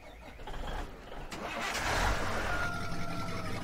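Truck engine starting in Farming Simulator 17, a cranking catch that settles into a steady mid-pitched idle, moderately loud and alone.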